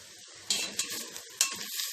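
Meat sautéing in a pot for Egyptian Eid fatta: a steady hot sizzle broken by a few sharp scrapes and clanks as it is stirred, close and continuous.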